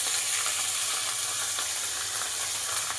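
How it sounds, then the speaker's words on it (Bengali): Red amaranth leaves frying with onion in a wok, a loud continuous sizzle and hiss with no break and no voices. "এবার আমি লাল শাকটা দিয়ে দিচ্ছি কড়াইতে"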